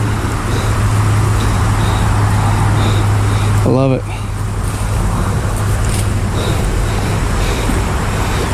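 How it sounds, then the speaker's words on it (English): Steady roadway traffic noise hums from a nearby road beside a creek, a continuous low rumble with a steady drone throughout, while someone speaks briefly over it. "Sorry for the traffic noise."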